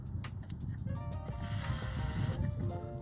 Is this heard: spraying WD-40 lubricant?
yes